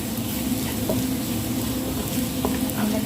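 Spices are stirred in a pot while cooking chicken biryani, with a steady sizzle running throughout and soft scraping sounds from the stirring at close range, no talk over it.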